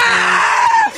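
A person lets out a loud, sustained scream, shrill and close, holding for about a second before it breaks off.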